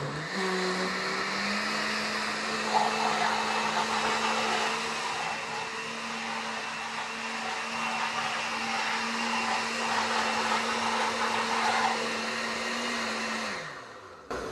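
A kitchen blender whirs steadily while blending sauce with parmesan cheese, a loud, constant motor drone that runs for about thirteen seconds before winding down at the end.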